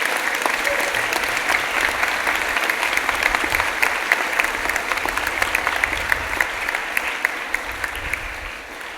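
Steady applause from a school audience at a Catholic college ceremony for an archbishop's launch, a dense, even wash of clapping from a large crowd at moderate distance, continuing without voices.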